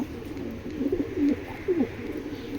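Foreign-bred pigeons coo softly nearby, a few low rolling coos in short bursts over faint background hiss, with no talk.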